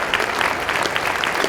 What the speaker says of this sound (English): let's give them a round of applause and welcome the Norco Choir